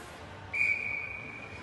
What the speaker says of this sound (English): And that's a quick whistle down as Veach was fighting for it.